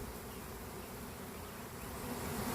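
A swarm of honeybees fills the air with a dense, continuous buzz, steady and enveloping with no voices over it.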